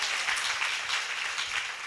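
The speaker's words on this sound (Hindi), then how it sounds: "अब बजाओ ताली" An audience at a devotional religious discourse applauds in a dense burst of clapping that stays fairly even and fades slightly near the end.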